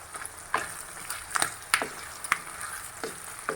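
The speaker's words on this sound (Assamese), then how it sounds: "তেতিয়া ধুনীয়াকৈ পৰ্কটোৰ লগতে ফ্ৰাই হৈ যাব" Chopped ginger and garlic frying in a pan with pork for a pork gravy, a steady sizzle broken by several sharp crackles and stirring clatters, close and fairly quiet, no voices.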